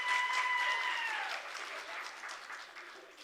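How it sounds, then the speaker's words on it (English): An audience at a women-in-media event applauding, a burst of clapping that is full at the start and gradually thins and fades over a few seconds, with a faint tone fading out early on. "A round of applause for him."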